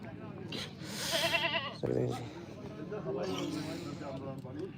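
Goats bleat loudly nearby at the goat market in Dhanaula, Punjab, several wavering cries over the chatter and bustle of a crowded market where people keep talking.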